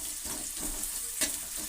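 Onions frying in a pan while bitter gourd gojju is cooked, a steady close sizzle with faint stirring scrapes and a brief louder burst partway through.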